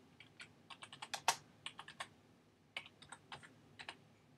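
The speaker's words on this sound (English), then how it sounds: "you just click and you just start typing" Fingers type on a computer keyboard in two quick bursts of crisp, close clicks separated by a short pause, faint and alone in a quiet room.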